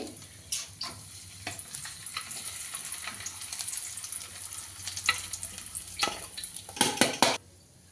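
Cashews and raisins sizzle steadily as they fry in a pan for Kannada-style flattened rice (avalakki) tempering, with frequent scraping stir strokes and brief clinks of a spoon against the pan, loudest near the end.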